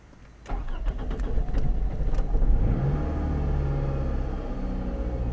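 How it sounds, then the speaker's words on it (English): A car engine cranks and catches, then settles into a steady low idle rumble that continues to the end, close and fairly loud. "I don't like when I start up my car."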